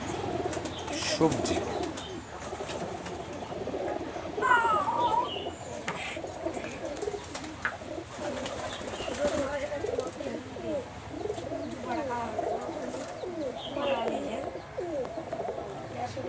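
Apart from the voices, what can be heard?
high flyer giribaz pigeon flapping wings and cooing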